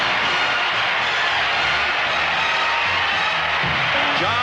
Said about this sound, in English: They're on their feet, and you want to hear an ovation.